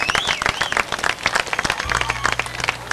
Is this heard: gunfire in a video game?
no